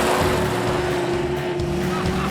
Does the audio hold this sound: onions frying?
no